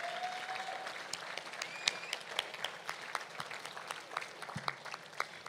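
A graduation audience of parents claps steadily in a large hall, a dense patter of hands with scattered louder claps, moderately near with no talking.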